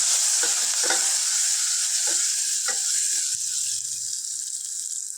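Spiced tempering sizzles steadily in a pan after half a spoon of turmeric goes in. A few scraping stirs sound over the constant hiss of frying.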